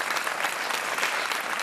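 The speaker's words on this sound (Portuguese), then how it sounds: "Um aplauso para o David e um aplauso para a Filipa" A studio audience on the RTP 1 game show Joker applauds contestants David and Filipa with a dense, steady burst of clapping at an even level throughout.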